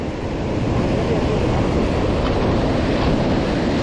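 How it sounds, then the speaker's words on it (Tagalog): Ocean waves on a rocky shore in Oman during fishing, a loud continuous broadband wash of surf with wind buffeting the microphone, steady throughout with no talk. "Wait for the big waves."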